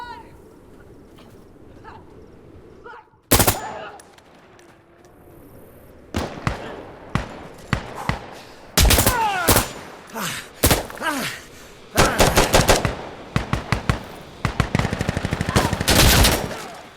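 Gunfire in the video game Insurgency: Sandstorm, loud sharp bursts and single shots scattered across the clip, some rapid automatic strings, with a player talking between them.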